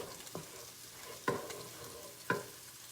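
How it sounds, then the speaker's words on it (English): Spices, onion, ginger and garlic fry in oil in a pan over medium heat for a paneer dish: a low steady sizzle broken by three distinct scraping stirs, close by. "I'm going to fry the spices and the onion and the ginger and garlic in medium heat."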